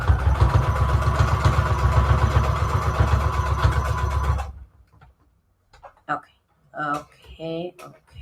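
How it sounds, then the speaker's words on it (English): A domestic sewing machine stitching fabric runs steadily with a fast, even mechanical whir for about four seconds, then stops abruptly; a person's speech follows in the quieter remainder. "I thought I was out of bobbin because my machine sounded weird."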